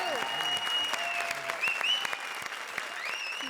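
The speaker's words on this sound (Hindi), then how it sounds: "जोरदार तालियां हमारी वाइल्ड कार्ड एंट्री के लिए।" Studio audience on a Hindi comedy show applauds a wild card entry, a dense continuous wash of clapping with a sustained musical tone and whistle-like sweeps running through it.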